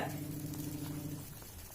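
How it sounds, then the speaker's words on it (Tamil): Quiet, steady bubbling of paneer butter masala simmering in a pot, a soft continuous hiss with faint low hum, no voices. "இப்போ நல்லா கொதிச்சிடுச்சு"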